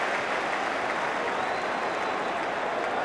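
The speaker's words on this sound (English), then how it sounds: "even the Everton fans applaud that" Football crowd of Everton fans applauds Peter Schmeichel's goal for Villa, a dense, steady wash of clapping from a large stadium audience throughout.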